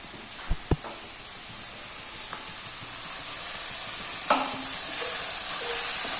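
Chicken pieces coated in masala sizzle steadily in a hot pan, with a few sharp clacks of a spoon against the pan early on and scraping stirs later, no one talking.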